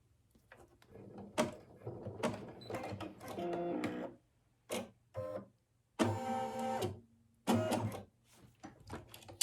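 A computerized embroidery machine sews a satin stitch around the base of a snowglobe ornament design, with rapid mechanical whirring in uneven bursts, stopping and restarting several times, close and alone.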